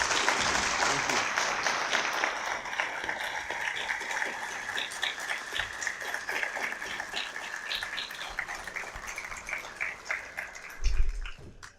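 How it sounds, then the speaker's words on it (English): A debate audience bursts into sustained, dense applause for Lars Gule after a debate with Mohammed Hijab. The clapping stays steady for about ten seconds and tapers near the end, with a little talk mixed in. "So everyone, a round of applause for Lars Gule."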